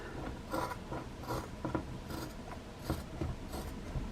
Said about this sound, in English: take a pair of scissors and we're going to cut off some of the excess leather